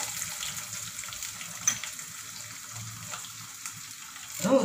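Dried turkey berries, garlic and shallots sautéing in oil for vatha kulambu, a soft steady sizzle with a few stirring knocks and a louder clatter at the end.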